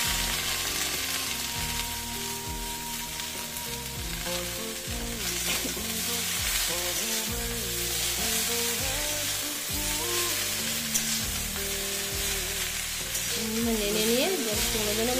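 Bethe greens go into eggplant frying in a pan with salt and turmeric, giving a steady, close sizzle that lasts the whole stretch. A low, tonal background sits beneath the frying.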